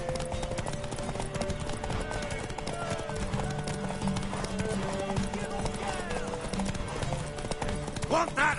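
Horse hooves clip-clop steadily through dense, busy game audio from The Witcher 3, with music and background sound running underneath the whole time.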